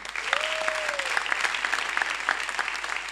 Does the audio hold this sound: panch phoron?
no